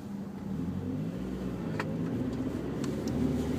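A manual-transmission car slows to a stop, its engine giving a steady mid-low rumble throughout with no sharp revving, close and continuous.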